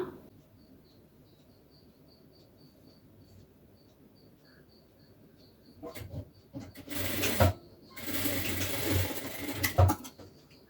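A sewing machine stitches a blouse cross piece. After a quiet stretch, two loud whirring bursts of stitching follow near the end, separated by a brief pause.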